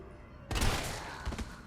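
A sudden loud burst of gunfire in Resident Evil 3 breaks a quiet moment, followed by a second shot shortly after, sharp and close game weapon effects.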